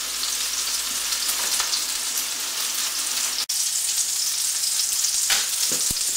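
Swordfish pan-fries in olive oil with a loud, continuous close sizzle and crackle that holds steady, broken once by a brief dropout.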